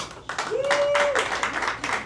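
A burst of audience applause and cheering, with a voice calling out a sustained shout over the clapping.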